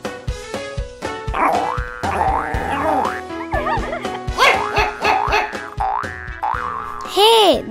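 Cartoon puppy yips and bow-wows in short bursts over busy animated music with boing-like sound effects and overlapping voices, the barks fairly close and loud.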